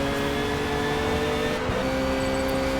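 Race car engine in Forza Motorsport droning steadily through a final curve, a constant loud mechanical hum with whining tonal layers and no talk.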